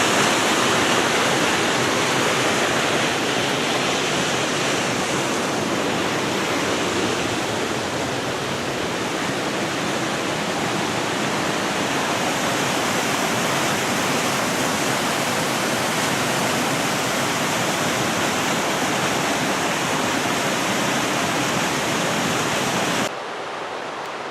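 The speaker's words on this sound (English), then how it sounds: "It just has the beautiful rapids to watch, and this whole trail just follows alongside the rapids." River rapids on a portage trail near Ely, Minnesota, rush in a steady, loud, broadband roar of white water that holds constant throughout, with no voices, dropping slightly quieter right at the end.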